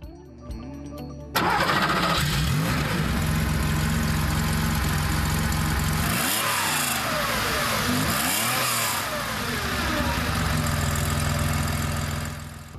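A Porsche 911T's 2.4-litre rear-mounted six-cylinder engine cranks and starts, then settles into a steady idle with a couple of throttle blips that rise and fall, close and loud.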